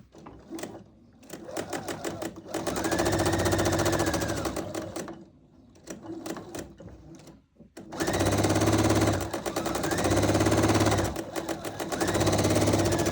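A sewing machine stitches a quilt block along a partial seam in several bursts of rapid, steady chatter, with short pauses and softer handling noises between runs. It sounds close and fairly loud, and no one speaks.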